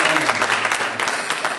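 Church congregation applauding during a Sunday morning service, a dense burst of many hands clapping at once that fades slightly toward the end.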